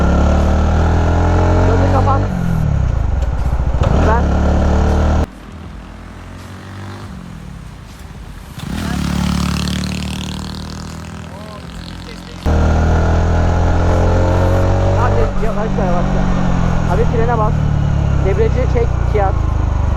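A motorcycle engine ridden by a beginner learning clutch and throttle, revving and droning with rising and falling pitch, with a quieter idle-like lull partway through, under steady talk from riders coaching each other.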